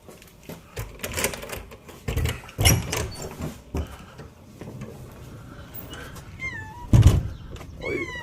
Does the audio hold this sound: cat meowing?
yes